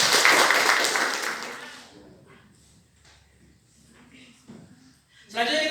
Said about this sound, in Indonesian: Oke, tepuk tangan dong buat teman-teman.